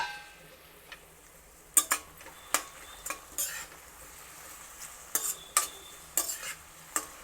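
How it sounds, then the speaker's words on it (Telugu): Chopped tomato pieces cook in a pan while a spoon stirs them, giving irregular close scrapes and clinks against the metal over a faint sizzle, with bursts of several strokes and short pauses between them. "సరే కలుపుదాము టమాటా ముక్కల్ని."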